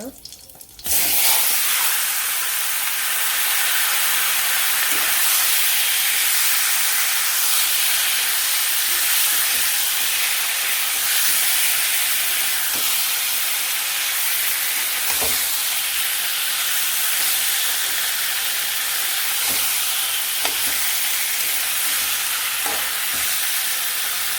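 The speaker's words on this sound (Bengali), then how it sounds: "মাংসটা ভালো করে কষিয়ে নিই তারপরে আবার দিই" Meat frying in a pan with turmeric and cumin paste gives a loud, steady sizzling hiss from start to finish, with a few faint clicks of a spoon against the pan.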